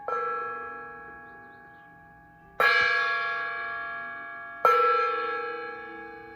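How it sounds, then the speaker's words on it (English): Three resonant metallic strikes ring out about two seconds apart, each blooming with bright overtones and slowly decaying, alone without voices. "So let's start off with some gong energy."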